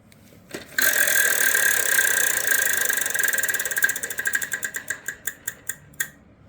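A Wheel of Fortune prize wheel spun on a mid-90s game show taped at Walt Disney World, ratcheting loudly with rapid, steady clicks that gradually space out and slow to a final few ticks as it stops.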